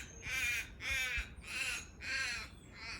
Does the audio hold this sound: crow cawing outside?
yes